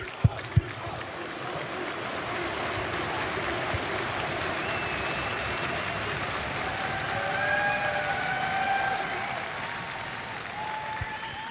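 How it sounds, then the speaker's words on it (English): A large crowd at an esports match applauds and cheers in a sustained, loud wave of clapping that swells near the end, with a few sharp claps at the start. "this reaction from the crowd pretty much sums it all up"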